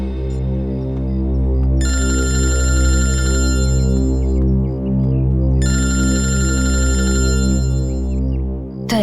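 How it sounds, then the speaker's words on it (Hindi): A telephone rings in two long electronic bursts over a loud, droning dramatic music bed, with a pause between rings and no talking. "दया सर का फोन?"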